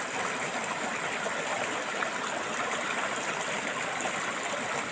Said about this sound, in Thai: น้ำไหลเชี่ยวครับ